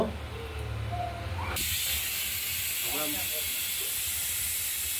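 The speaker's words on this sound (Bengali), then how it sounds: "এবার ঢাকনাটি আটকে দিয়ে সিটি দেব।" A pressure cooker on the stove with lentils inside lets off a loud, continuous hiss of steam that starts abruptly and holds steady, with a few soft clinks and a voice in the background.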